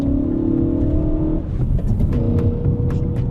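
A car engine idling while it warms up, its steady exhaust drone close and loud, with a lighter shift in tone partway through.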